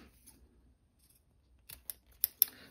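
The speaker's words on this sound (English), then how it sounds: "trim it off with the scissors" Scissors snip through fabric zipper tape, a few quick, crisp cuts close up in a quiet room, with faint handling before them.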